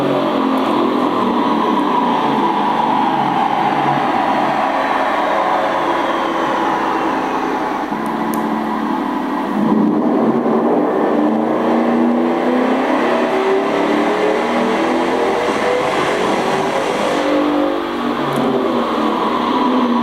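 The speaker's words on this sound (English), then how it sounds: "So why don't you run it? This is a chassis dyno." A Corvette runs on a chassis dyno indoors, a sustained loud engine roar with rising and falling tones as it holds and sweeps through revs.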